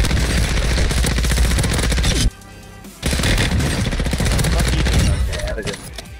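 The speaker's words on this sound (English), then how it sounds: "I'm getting shot from stadium." Rapid, dense automatic gunfire from an LMG in Call of Duty Warzone 2 on the Vondel map, loud and sustained, dropping out for a moment before resuming under occasional talk.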